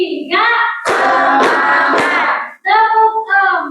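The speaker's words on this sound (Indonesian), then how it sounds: "Tepuk tiga." A school class claps a three-beat pattern, with three sharp hand claps spaced evenly under loud chanting voices.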